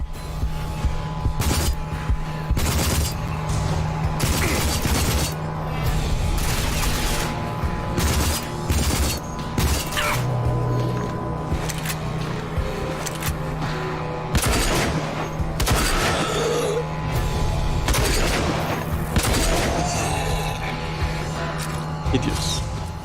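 Gunfire in the video game Rage comes as repeated sharp shots and bursts at close range over a running background, with someone talking at times.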